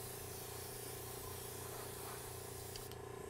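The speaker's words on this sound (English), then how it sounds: "airbrushing is like having a tiny spray paint can" An airbrush spraying acrylic paint gives a steady, continuous broadband hiss that stays even and fairly loud for the whole stretch, with no voices.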